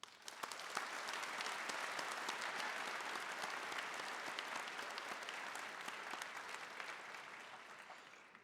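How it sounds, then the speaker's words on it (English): A graduation convocation crowd gives sustained applause, a full, continuous roar of many hands that swells early, holds steady and thins slightly toward the end, heard from some distance in a large hall. "if you could join me in a round of applause to thank"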